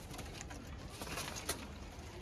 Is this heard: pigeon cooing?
yes